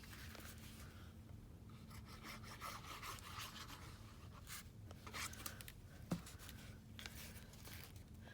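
Paper envelope flap for a journal folded down and pressed firmly, a faint close-up rubbing and rasping of paper with one sharp crease tap.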